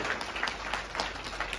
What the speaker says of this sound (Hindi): दोबारा से ताली बजाना।